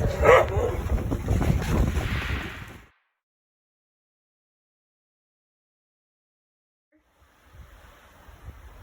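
A dog barks near the start amid outdoor noise during a heavy snowstorm in Arkansas, then a long stretch of near silence before faint background sound returns.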